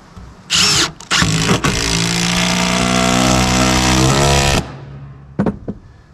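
Big leg bolts being driven into pole barn posts through backer board with a powered driver: a short burst, then a loud sustained whirring run of about three seconds that stops abruptly, followed by brief clicks, close by.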